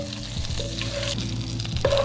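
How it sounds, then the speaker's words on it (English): Butter melting and sizzling in a pan as the base for a beef stew, a steady close frying crackle with a low hum and occasional stirring scrapes, no talking. "So now we want to go ahead and just add our butter, right? As soon as this melts"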